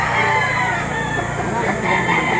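An 11-month-old rooster crows loudly and close by at a crowded poultry market, its call stretched over a dense background of other birds and farmyard noise.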